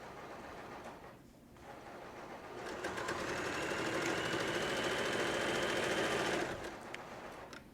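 A sewing machine runs a steady, fast stitching burst while sewing a potato bag, rising after a brief lull and holding loud and even for several seconds before slowing to a stop, with no talk.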